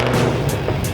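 A 2024 Ford Mustang GT V8 with a large Whipple supercharger fires up in a workshop, giving a loud, dense, continuous roar close by with no voices.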